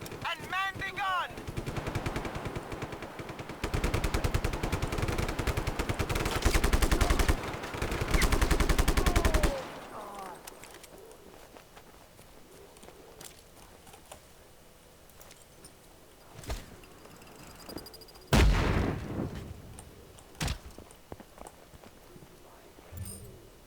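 Rapid bursts of heavy gunfire from a tower-mounted machine gun in Just Cause 3, loud and dense for the first ten seconds, then sparser scattered shots and impacts over quieter game ambience.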